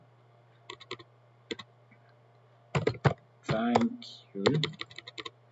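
Typing on a computer keyboard while making an exam certificate in MS Publisher: sparse clicks, then quick bursts of keystrokes, with a voice speaking briefly in the middle.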